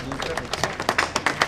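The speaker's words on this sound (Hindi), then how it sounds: "आप सभी से गुजारिश है, तालियां रुकनी नहीं चाहिए।" Audience applause at an aplastic anaemia awareness rally, welcoming an honored doctor: loud, close clapping with distinct individual claps standing out in an irregular rhythm, a voice speaking over it.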